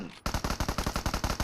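Rapid automatic gunfire bursts out in a shooting video game, a loud, fast, evenly spaced string of shots that starts abruptly and keeps going.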